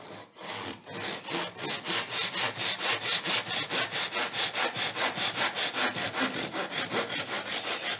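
A hand saw cuts through wood held down by clamps in quick, even strokes, a loud close rasp pulsing roughly four times a second after a brief start, with no voices.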